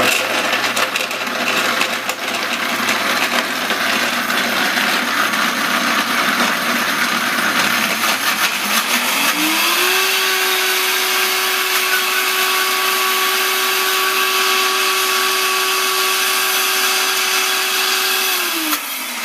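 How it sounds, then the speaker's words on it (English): A blender whirs loudly through a raw vegan salad dressing with parsley and nuts, a continuous motor roar that shifts up to a higher, steadier whine partway through and keeps running without pause. "And now we're going to blend this up."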